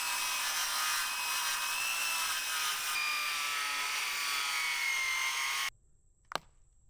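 A saw cuts steadily into a wooden stump, a continuous buzzing rasp for several seconds that stops abruptly, leaving near silence and a single sharp knock.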